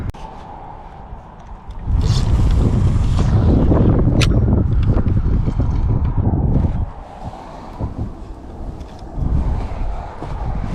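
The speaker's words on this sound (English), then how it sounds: "Wind's a little strong, but it's not cold." Strong wind gusting outdoors beside a river in Maitland, Nova Scotia, a loud rushing roar of wind noise buffeting the microphone for several seconds, then easing to a steadier, softer bluster.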